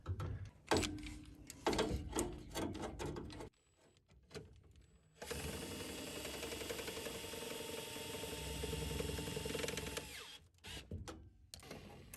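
Bursts of a power drill whirring in short pulses, then a long sustained grinding drive lasting several seconds as it runs self-tapping screws into a furnace housing, before stopping, close by.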